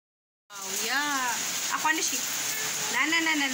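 Heavy rain falls outside a balcony as a steady, broad hiss that starts abruptly after a short silence, with someone talking over it.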